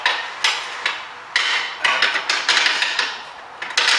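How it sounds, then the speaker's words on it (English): A series of sharp hammer taps on metal clutch parts of a Seat Alhambra, arriving in irregular bursts of two or three strikes, loud and close with no talking. "A couple of taps of the hammer normally does the job."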